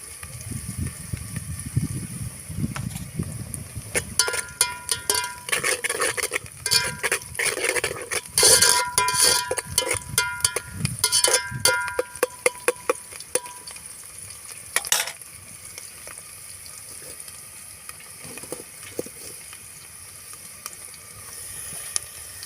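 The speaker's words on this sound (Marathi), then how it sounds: "आता चांगल्या तेलामध्ये मिरची कांदे होऊ द्या" Chillies and onions frying in oil in a pan on a clay wood-fired stove, with steady sizzling and bursts of stirring and scraping clatter, close and fairly loud, no talking.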